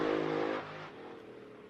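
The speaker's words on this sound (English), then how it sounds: "Sounds strong, it's a good engine combination in this boat." A powerful racing speedboat engine roars briefly, then the pitch drops and it fades back to a lower rumble, heard alone and fairly close.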